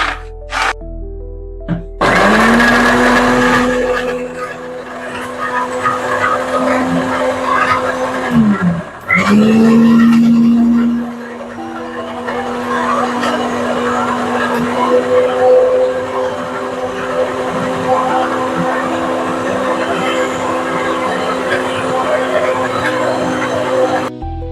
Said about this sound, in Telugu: ఇప్పుడు మనం బ్లెండ్ చేసుకుందామండి